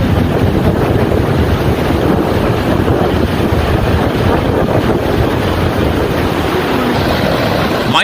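Rough sea waves and strong wind pound a coastline near Velankanni, making a loud, continuous roar of surf and wind buffeting with no break from start to finish.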